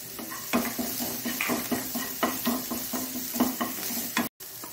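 Onion sautéing in a little oil in a pan, with steady stirring scrapes and soft clinks of a utensil against the pan over a faint sizzle, close and moderately quiet, briefly cut to silence near the end.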